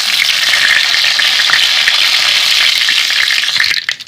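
Loud, steady sizzling of curry leaves frying in hot coconut oil with mustard seeds, a dense crackling hiss that continues without a break and cuts off abruptly near the end.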